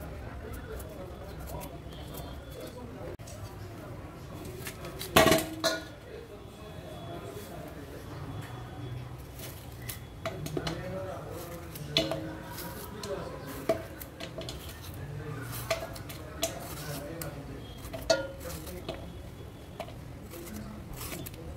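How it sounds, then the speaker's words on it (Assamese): Bamboo shoot sliced thinly with a knife, a series of irregular soft cuts and taps on a board with one sharp knock partway through, while someone talks over it. "এতিয়া আৰু পাতল পাতলকৈ কাটি লম"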